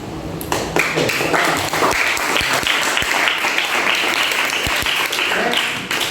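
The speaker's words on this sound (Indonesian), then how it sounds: "tepuk tangan lagi sekali untuk kelas satu." A first-grade class claps together in a classroom, sustained lively applause with many overlapping hand claps, loud and close throughout.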